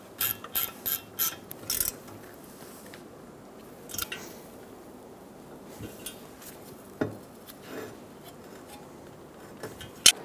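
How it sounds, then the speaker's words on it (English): Ratchet snugging down bolts on a 2007-2011 Toyota Camry front steering knuckle: short bursts of rapid clicking, a cluster of quick strokes early, then scattered single clicks with pauses, close and fairly quiet. "Go around and snug all the bolts down."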